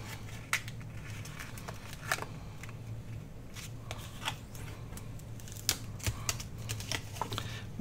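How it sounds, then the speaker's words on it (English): Crisp paper creasing and rustling as 12x12 patterned sheets are folded for an accordion journal, a run of soft sharp snaps and flicks scattered irregularly over a low steady hum, fairly close. "I'll fold that one up just a little bit more."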